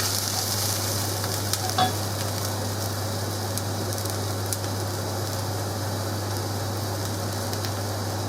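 Onions with freshly added garlic fry in a pan for a shepherd's pie, giving a steady, close sizzle throughout with a faint low hum beneath and one brief clack of a utensil partway in.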